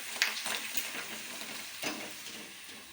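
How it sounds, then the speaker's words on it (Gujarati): Bhungra snacks sizzle and crackle in hot oil, three or four at a time, a steady frying hiss with a few sharper pops, close and fairly quiet. "તેલ થઈ ગયું છે, આપણે ભૂંગળા તળી લઈએ"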